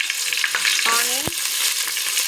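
Onion and green chilli frying in hot oil with bay leaf and whole spices for bagara rice, a steady close broadband sizzle with a brief clank of a spoon against the pan partway through.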